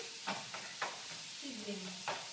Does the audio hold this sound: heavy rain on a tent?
no